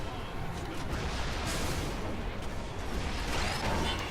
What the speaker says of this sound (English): and a lot of rockets coming out from Tinker